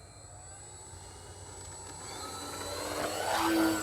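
Dynam Messerschmitt BF-110 twin-engine RC model plane taking off in calm wind, its electric motors whining and rising in pitch as it climbs away, growing louder toward the end.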